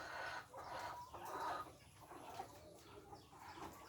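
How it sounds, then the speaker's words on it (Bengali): Chickens cluck in a poultry shed on an agro farm, a faint, irregular chorus of soft clucks and calls from several birds at a moderate distance, with no talking. "মুরগিগুলো খুব সুন্দর পরিবেশে আসলে ওরা ডাকতেছে।"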